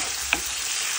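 Potatoes frying in a pan with a steady, close hiss of sizzling oil and one brief clink of a utensil, no talking.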